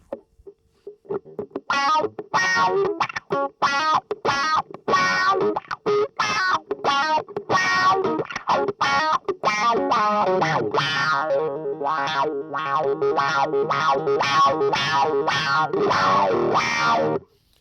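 Electric guitar played through a Vox V845 wah pedal, a run of rhythmic chopped chords whose tone sweeps and swells, loud and close, then a longer sustained stretch with wobbling, filtered overtones.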